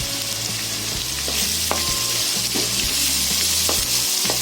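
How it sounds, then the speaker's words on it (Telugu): Spice paste for chicken curry fries loudly in a hot pan, a continuous close sizzle broken by the scrapes and knocks of stirring. "పచ్చివాసన పోయేంత వరకు ఫ్రై చేసుకోవాలి"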